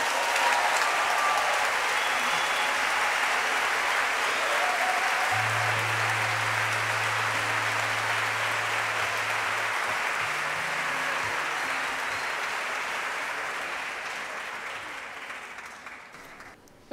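Concert audience applauding at an Argentine folk music performance, a steady dense wash of clapping that stays loud throughout and slowly fades toward the end.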